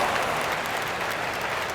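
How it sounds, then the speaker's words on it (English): Crowd applause from an NBA 2K25 basketball game, a 1971-72 New York Knicks versus 1995-96 Seattle matchup, rolls on as a continuous, fairly loud wash of clapping and arena noise with no voices. "Give yourself a round of applause."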